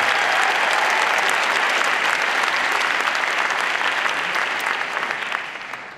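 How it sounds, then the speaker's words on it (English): Dense applause from a large audience at Stanford during a summer-break discussion event, steady and loud throughout before easing slightly in the last second. "So please give them a big round of applause."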